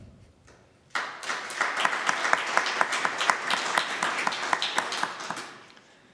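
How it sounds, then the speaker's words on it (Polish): Audience at the Norwid Festiwal 2021 gala bursts into applause after a brief quiet moment, a loud, full round of many hands with some crisp individual claps standing out, then fading out toward the end. "Także wielkie brawa dla państwa."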